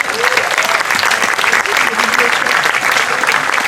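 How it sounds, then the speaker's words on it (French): A municipal crowd at the opening of a jazz festival event claps loudly and steadily in dense, continuous applause close by, with no voices breaking through. "Je pense qu'on peut les applaudir collectivement et très fort."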